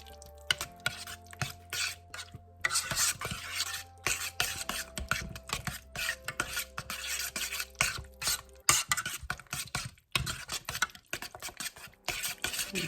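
A spoon stirs a sauce simmering on low to medium-low heat in a pot, with intermittent scraping and soft bubbling, close and moderately loud, broken by brief pauses and faint tonal background sounds.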